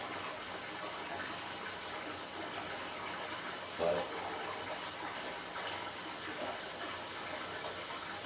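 Water runs steadily from a tap as a broad, continuous hiss in the background, with someone speaking briefly over it.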